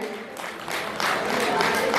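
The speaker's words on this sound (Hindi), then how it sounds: "जोरदार तालियां बजाएंगे।" At the Basant Panchami fair at Kanvashram in Uttarakhand, a crowd claps in a broad, hissing wash that swells louder partway through and stays strong to the end, with a faint voice mixed in.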